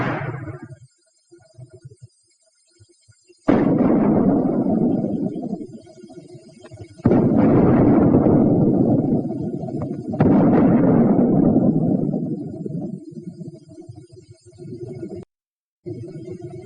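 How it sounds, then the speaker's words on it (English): A mortar firing white phosphorus smoke shells, a 1943 wartime scene: several loud separate booms with rumbling decay, each about three seconds apart, with brief silent gaps between. "The mortar also fires smoke shell."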